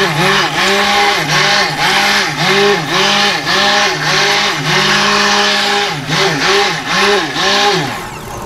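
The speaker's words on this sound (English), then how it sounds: "what you're going to do with your immersion blender is you're just going to pulse" An immersion blender pulses in a lard soap mixture, whirring in about a dozen short, loud bursts that rise and fall in a regular rhythm, up close with no talking.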